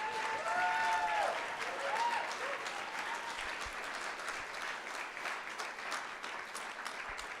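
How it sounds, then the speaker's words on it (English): An audience at a startup pitch event applauds the Office of Innovation team with sustained, moderately distant clapping. A few whoops and cheers ring out early on, then the steady applause carries on to the end. "So please, round of applause for the Office of Innovation team."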